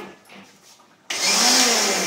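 A quiet room gives way to a sudden loud, steady high-pitched whir of a mixer grinder motor, one with no on/off button of its own, starting up and running close by.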